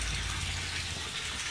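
Water flowing steadily into an aquaponics grow bed around a bell siphon, fed through a valved inlet; a continuous, close gushing and trickling fill with no voices.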